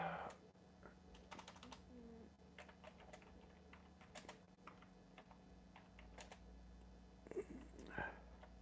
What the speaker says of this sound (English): So I'm just typing a little message on Facebook.